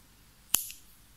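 Scissors snip once through excess crochet yarn on a handmade bag, a single sharp close click with a brief ringing tail in a quiet room.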